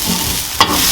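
Garlic sautéing in a pan for a sweet and spicy chicken dish, a loud continuous close sizzle with one brief stirring scrape about halfway through.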